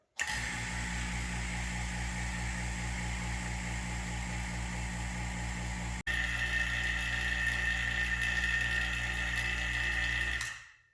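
A vacuum pump degassing silicone runs with a loud, steady mechanical drone and high whine, briefly cutting out and restarting slightly brighter, then shutting off near the end.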